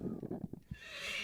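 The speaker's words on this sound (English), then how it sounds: "It's like a neigh." A horse neighs once, a short whinny that rises and trails off, with a few soft hoof clops just before it.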